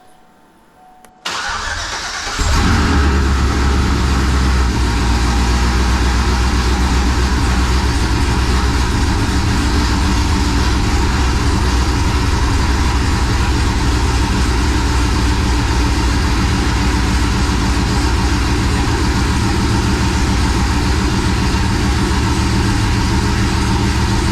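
A Cadillac CTS-V engine with a freshly swapped cam and pulley and new headers cranks and fires up after a quiet start, then settles into a loud, steady, lumpy idle that runs on alone.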